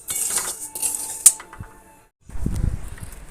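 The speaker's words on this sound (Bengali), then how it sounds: "ডালিয়াটা একটু কড়াইয়ের মধ্যে নেড়ে নেব শুকনো খোলায়" Broken wheat (dalia) stirred in a dry wok: scraping and light metallic clinks of a utensil against the pan, close by, a sharp clink midway, a short pause, then duller rustling resumes.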